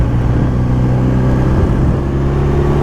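A new motorcycle's engine sits at a steady, close idle and gives small throttle blips. The throttle is touchy, so the pitch jumps a little on each blip. The engine drones on without a pause.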